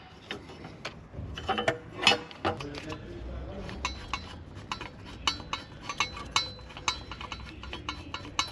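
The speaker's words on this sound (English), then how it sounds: "Screw back the bracket." Metal bracket being screwed back on during an oxygen sensor repair on a 2012 Opel Antara, with irregular clinks, ratcheting and tool taps from close by.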